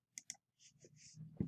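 Two quick, crisp mouse clicks sound up close on a computer during an operating-system install in a virtual machine, followed by faint soft shuffling and a low thump.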